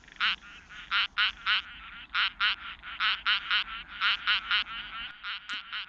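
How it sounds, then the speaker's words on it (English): Painted chorus frog giving a rapid quacking call, bursts of quick harsh pulses repeated in runs, clear and close over a quiet background. "This is the painted chorus frog. It has a rapid quacking call, as you can hear"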